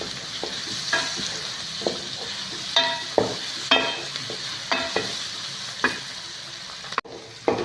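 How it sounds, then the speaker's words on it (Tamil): Chopped large onions sautéing in a pan for hotel-style tiffin sambar, a soft continuous sizzle broken by regular spatula scrapes and taps about once a second, close and without speech. "இந்த வெங்காயம் பெரிய வெங்காயம் இந்த மாதிரி கட் பண்ணி இந்த மாதிரி வதக்கணும்"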